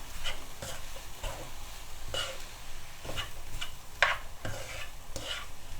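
Vegetable roll filling being stirred in a pan in a Sri Lankan kitchen, repeated scraping spoon strokes at roughly one-second intervals over a soft sizzle, close and alone.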